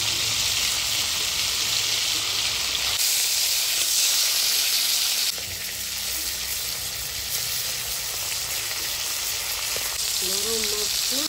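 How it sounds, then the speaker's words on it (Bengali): Pomfret fish frying in a pan of oil, a steady loud sizzle and hiss running throughout with slight shifts in intensity, no voices over it. "এইভাবে আমি সব মাছগুলো ভেজে নেব।"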